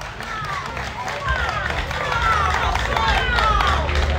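A crowd applauds a finalist at a Christmas music contest final, steady clapping that grows louder midway and carries on without pause, with some voices in the crowd.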